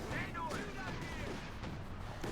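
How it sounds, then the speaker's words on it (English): A bazooka firing at an Ostwind anti-aircraft tank in Company of Heroes 2, a muffled blast with whistling trails, faint under game ambience and a continuous low battle rumble. "Bazooka firing in the Ostwind"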